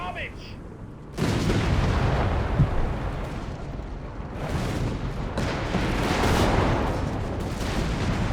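Nebelwerfer rocket artillery fires in the World War II strategy game Company of Heroes 3, giving dense, loud explosive roars and booming blasts that surge and overlap continuously, with a quieter lead-in before the barrage.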